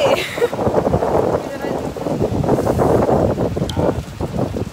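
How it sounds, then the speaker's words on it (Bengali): Steady rushing wind and broadband noise like rain beating down, loud and close at the seaside, with a person speaking over it. "এই দেখো বৃষ্টি পড়তেছে"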